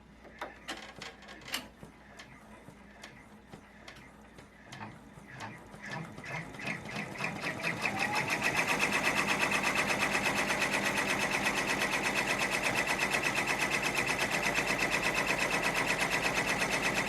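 A sewing machine stitching a composition notebook cover starts with slow, separate clicking stitches, then speeds into a steady, loud mechanical whir that runs to the end, with no speech.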